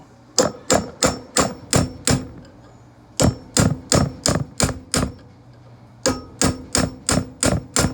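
A hammer taps sharply on a smoothbore gun barrel while fitting a barrel tenon, loud and close, in three bursts of five to six evenly spaced metallic strikes separated by short pauses.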